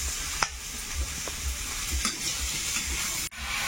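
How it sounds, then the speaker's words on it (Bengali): Potatoes frying and being stirred into a spice paste in a pan, with a steady close sizzle broken by scraping and clattering stirring strokes and one sharp knock near the end. "এবারে আলুটা দিয়ে দেবো মশলার মধ্যে। মশলাটা একটু ভাজা হয়েছে।"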